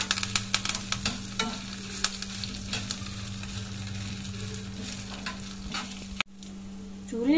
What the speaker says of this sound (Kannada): ಒಣ ಮೆಣಸಿದು, ಇದನ್ನು ಹಾಕುವ. ಇದು ಒಳ್ಳೆ ಫ್ರೈ ಆಗಲಿ.